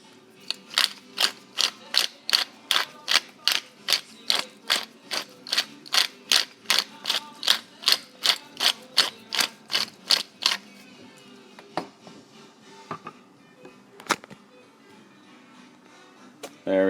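A pepper mill makes a rapid series of dry, rhythmic grinding clicks about twenty times up close, then stops, leaving a few scattered taps and quiet handling noise.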